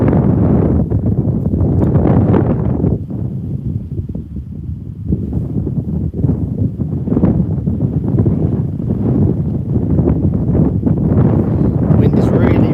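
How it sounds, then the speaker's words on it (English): Strong wind buffets the microphone at Birmingham airport, rumbling in heavy gusts that rise and fall throughout, loud and close with no other clear sounds. "Wind is really picking up."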